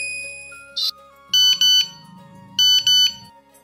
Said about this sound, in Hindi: फोन पे किसका मैसेज आ रहा है?